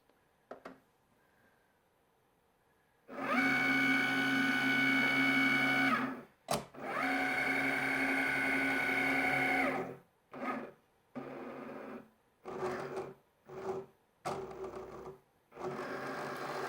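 A Cricut cutting machine runs a print then cut job, with whirring motor passes of a few seconds each followed by a series of short bursts and pauses, close and clear, no talk.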